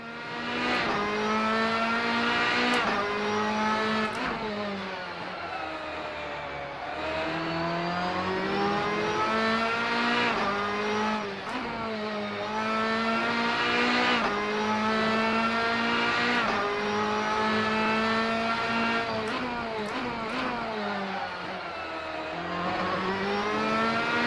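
A Ginetta G55 GT3 race car engine in Assetto Corsa at Road America revs hard through repeated climbing sweeps, dropping sharply at each gear change. The loud, continuous engine note plays alone with no voices.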